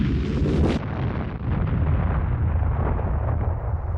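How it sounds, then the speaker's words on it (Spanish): A huge explosion tears through the battleship Maine at her mooring: a sharp blast gives way to a long, loud, dense rumble that fills the whole stretch, with no voices. "Una descomunal explosión había sacudido al acorazado, a estribor y a proa."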